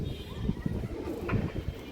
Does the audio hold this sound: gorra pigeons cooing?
yes